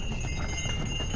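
Donkeys' hooves clip-clop steadily along a footpath up from the port on Santorini, dense and continuous under a steady background hiss, with no voices.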